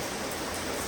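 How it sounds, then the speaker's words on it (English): Heavy rain pouring down as a dense, even hiss of drops, loud and continuous throughout the short stretch with no voices. "It's raining pretty good."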